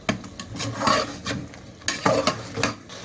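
Spices being stirred into Sindhi biryani in a pot, heard as repeated scraping and rubbing strokes in an irregular rhythm, close and moderately loud, with a faint sizzle beneath and no talking.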